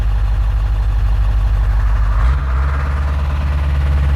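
A diesel truck engine running at high idle on a Medusa tune gives a loud, steady low rumble close by. About halfway through, the pitch drops slightly and settles into an even, deeper drone.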